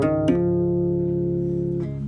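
An acoustic guitar plays a riff, a few plucked notes ringing over sustained strings, close and fairly quiet in a short passage with no voices.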